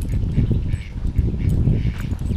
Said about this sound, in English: Of course, there's a duck, and Sammy Joe spotted the duck.